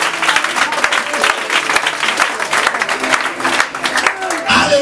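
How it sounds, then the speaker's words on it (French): Church congregation claps and cheers together, dense rhythmic applause mixed with shouts filling the room at close range, steady throughout with voices rising over it. "Acclamez le Seigneur Jésus."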